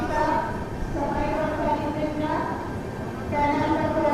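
Passenger train of the Marathwada Sampark Kranti Express running through fog near Dholpur Junction, a steady rumble and rattle of rolling wheels heard from aboard while someone talks over it.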